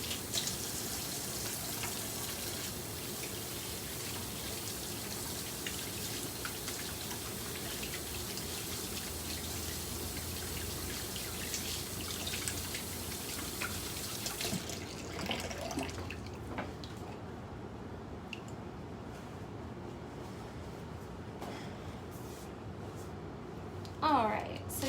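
A kitchen faucet runs in a steady broadband wash while hands and nails are scrubbed before zesting for a pie, then cuts off partway through, leaving quieter dripping and handling noises.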